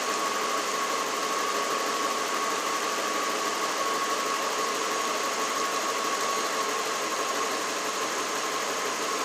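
A 1992 Lexus LS400 engine idles with a steady, even hum and faint ticking, heard close and constant throughout with no talk.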